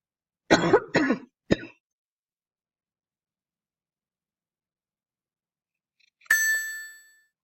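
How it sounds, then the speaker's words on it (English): Three quick coughs in a row, close and clear, followed by silence and then a single short ding ringing out. "Sorry for coughing on the video."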